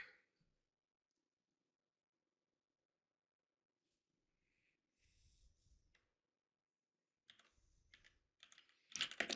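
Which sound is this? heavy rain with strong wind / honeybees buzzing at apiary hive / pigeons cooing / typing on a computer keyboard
typing on a computer keyboard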